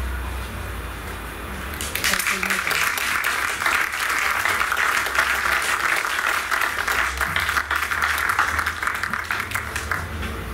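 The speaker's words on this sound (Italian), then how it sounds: "ancora un applauso" After a silent pause, an audience at an outdoor poetry reading bursts into sustained, dense applause that stays strong for several seconds to the end.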